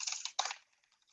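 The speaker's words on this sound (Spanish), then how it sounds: "Mientras tanto, disfruten del delicioso sonido de mi teclado." Fingers patter over a computer keyboard in a short, close burst of crisp key clicks, ending with one firmer keystroke before fading to near silence.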